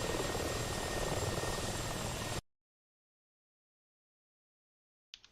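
A Ka-50 helicopter flies low over the ground in a multiplayer combat flight game, its steady rotor and engine roar loud and close for about two seconds before cutting to silence, followed by a faint brief noise at the end.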